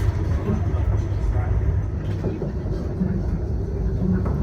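An Intercity 125 High Speed Train runs along track between Neville Hill and Leeds City Station, heard as a steady low rumble and rolling hum from on board, with a few faint clunks over the continuous noise.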